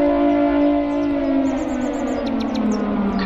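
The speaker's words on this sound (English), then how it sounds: "Super loud siren." A loud, sustained siren wails steadily through a creepy horror video game, its rising and falling tone filling the scene alone with faint chirps near the end.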